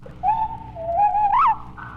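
A whippoorwill's song, slowed down, comes through as a clear whistled phrase of several smooth notes that hold, dip and then rise sharply into a brief peak, sounding alone over a faint background hiss.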